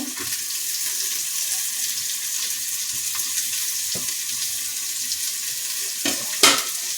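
Chopped coriander and dill leaves fry in a pan for a festival meal, a steady loud sizzle running throughout with occasional scrapes of stirring and a sharper clatter near the end.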